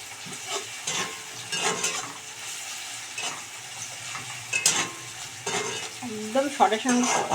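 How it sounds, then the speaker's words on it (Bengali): Sliced onions crackle and sizzle in a hot pan while being browned into birista, with frequent stirring scrapes and a few louder clattering knocks toward the end; no voices are present. "এবার পেঁয়াজটা ভেজে ব্রেস্তা করে নিই"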